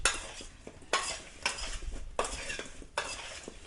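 Potatoes being tossed with oil, rosemary and spices in a bowl: a few sharp scraping and clattering strokes of a utensil against the bowl, recurring roughly every second with a soft mixing rustle between them, close and moderately loud, with no talking.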